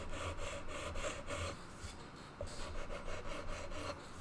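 Steady rhythmic sanding of wood, a raspy back-and-forth scrape repeating continuously with a brief pause midway, close and fairly quiet.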